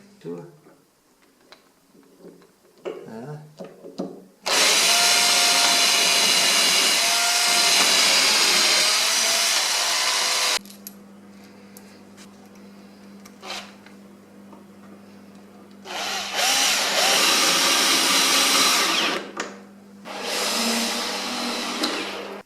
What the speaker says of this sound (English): I will now mark the center of the hole with the tip of this wood drill